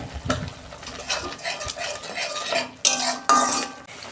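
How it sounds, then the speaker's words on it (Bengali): Ground spices being stirred and fried in a pan with a little salt and sugar, a spoon scraping and clinking against the metal over a steady low sizzle, with a couple of louder scrapes near the end. "দু মিনিট আমি কষে নেব"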